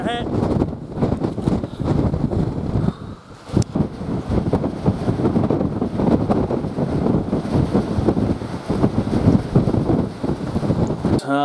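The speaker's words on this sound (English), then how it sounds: "Pretty windy up on this ridge." Strong wind buffets a microphone on an exposed ridge during a deer hunt, a continuous loud rumbling roar with gusts that dip briefly near the start and then build again.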